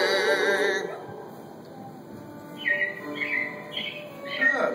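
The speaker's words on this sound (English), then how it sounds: "it looks like the Robins are getting ready to celebrate Valentine's Day today" Recorded robins chirp in short bright bursts in an animatronic theater show, following a passage of music that fades out.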